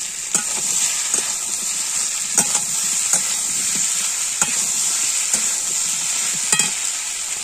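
Hilsa fish heads frying in a pan with green chillies and ginger paste, giving a steady close hiss of oil with sharp crackles and occasional stirring scrapes, no voices.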